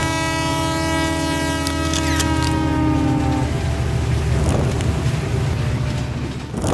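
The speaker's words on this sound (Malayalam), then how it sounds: "ഈ ചൂളംവിളി കേട്ടാണ് മുംബൈ ഉണരുന്നതും ഉറങ്ങുന്നതും" A Mumbai local train sounds its horn in a long, loud sustained blast that cuts off partway through, leaving the rumble and clatter of the moving train and rushing wind.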